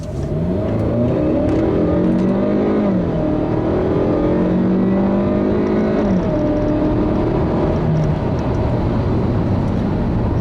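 A 2015 Hyundai Sonata Sport with the 2.0T turbo engine accelerating hard, loud and continuous, engine pitch climbing through several gear shifts with dips between them, heard from inside the car without talk.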